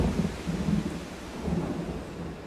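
A thunderstorm with driving rain and rolling thunder gives a steady, moderately quiet wash of rain noise. Low rumbles swell and fade beneath it, with no voices.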